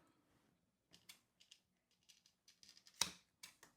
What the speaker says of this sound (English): Grab some scissors to cut that off.